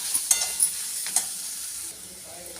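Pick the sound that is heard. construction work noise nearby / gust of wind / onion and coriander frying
onion and coriander frying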